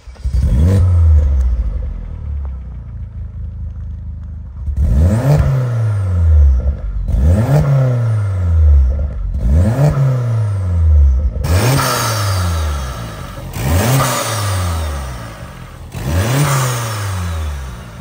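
An Opel Corsa OPC engine with the hood closed revs repeatedly, about six sharp throttle blips rising and falling in pitch at a steady rhythm, loud and close, with no talking.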